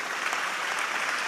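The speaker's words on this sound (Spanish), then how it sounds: "Denle un aplauso al Rey" Congregation clapping at a church retreat in El Salvador, a dense, even burst of applause from many people.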